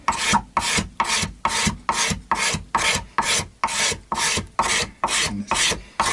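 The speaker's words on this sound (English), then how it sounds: "I am carving out the belly cutaways that I like to do so much on these Telecaster style guitars" A hand scraper or rasp shapes the belly cutaway of a wooden Telecaster-style guitar body, making about a dozen steady, evenly spaced strokes, each a loud rasping scrape close by with brief gaps between them.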